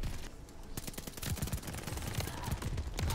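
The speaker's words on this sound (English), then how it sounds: "I'm shooting like three people at once." Rapid Call of Duty: Vanguard gunfire, a continuous run of sharp shots and bursts over about three seconds at moderate level, with faint talk in the mix.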